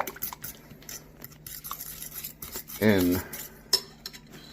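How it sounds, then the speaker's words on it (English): A utensil clinks and scrapes against a pan while gravy is stirred into cooked turkey, with an irregular run of close knocks and a brief voice partway through. "The next step is to mix the gravy"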